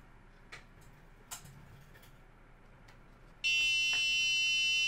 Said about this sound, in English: you can see my buzzer starts going off when I get under 1 meter